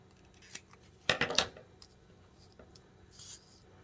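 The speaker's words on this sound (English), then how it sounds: "I'll have to trim that here in just a second." Scissors snip through a slider pull tab tag in a quick cluster of sharp, close cuts, followed by a few fainter rustles and small handling noises in a quiet room.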